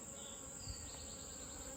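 Agitated honeybees buzz in a constant, dense drone during a hive inspection, faint and continuous with no voices.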